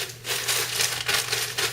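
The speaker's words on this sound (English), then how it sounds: "Crumple it up." Paper being crumpled up close, a burst of crinkling and crackling that swells and fades in quick waves.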